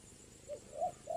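A spotted dove gives three soft, rounded coos at rising intervals, faint and distant against a quiet background.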